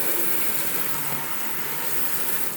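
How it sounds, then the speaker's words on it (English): A kitchen sink faucet runs water into the sink above a newly installed InSinkErator Badger 1 garbage disposal, making a steady, even rush that continues the whole time at close range. "just run a little water."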